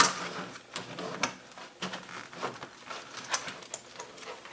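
A sewing machine stitches a zipper onto a fabric bag, a quiet, uneven patter of short rapid bursts and clicks with no voices over it.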